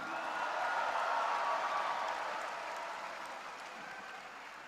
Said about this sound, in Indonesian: Kok tepuk tangan lebih gemuruh kalau Teddy ini.